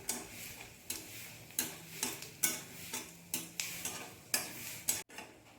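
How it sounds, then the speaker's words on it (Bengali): Panch phoron and a dried chilli frying in mustard oil give a steady close sizzle, marked by regular soft stirring strokes that tick like a clock, with no talk. "তেলের মধ্যে দিয়ে দিচ্ছি হাফ টিস্পুন মতো পাঁচ ফোড়ন আর একটা শুকনো লঙ্কাও দিয়ে দিচ্ছি এবার এগুলোকে একটু হালকা করে ভেজে নিতে হবে"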